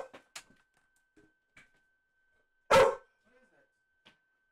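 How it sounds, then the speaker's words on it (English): Neighbors' dogs out on a late-night walk give one loud bark, with a few fainter, distant yips and small noises scattered around it in an otherwise quiet night. "It was the neighbors walking their dogs at 11 at night for some freaking reason."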